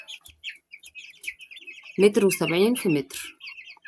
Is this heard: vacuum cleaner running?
no